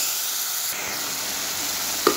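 A turmeric-spiced mixture for a chicken dish sizzles in a hot pan and is stirred. It gives a steady close hiss with a brief clink near the end and no voices.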